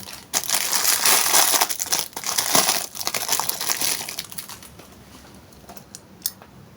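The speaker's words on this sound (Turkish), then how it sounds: "Şimdi Beyblade açalım." Packaging for a Rapidity-brand Beyblade Jade Jupiter top torn open by hand, loud close plastic crinkling and crushing for about four seconds, then quieter scattered rustles and a final small tap.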